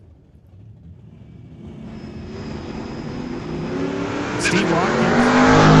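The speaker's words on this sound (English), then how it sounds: "Steve Watkins in the 2018 Ford Mustang, taking on Dell Northgraves over there in the Nova" Drag race cars, a 2018 Ford Mustang against a Chevrolet Nova, launch together, their engine roar building steadily louder over a few seconds beneath an announcer's commentary.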